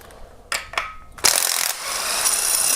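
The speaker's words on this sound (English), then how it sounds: "We're going to go ahead, remove that bolt. This is a normal threaded bolt. Get it loose, going counterclockwise." A hand ratchet loosens a 17mm bolt on a Kia Optima engine during timing chain work: a few separate clicks, then a long loud rapid ratcheting run, close and alone.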